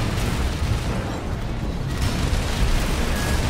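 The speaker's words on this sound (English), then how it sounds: "Oh, more missiles." Missile explosions in the mech combat game Armored Core 6, a dense continuous rumble of blasts and booms, loud and close, with no voice over it.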